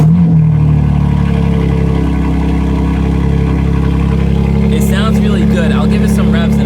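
A BMW G80 M3 with an aftermarket valved exhaust idles nearby in a deep, steady rumble with a brief blip at the start, while someone talks over the continuous engine drone.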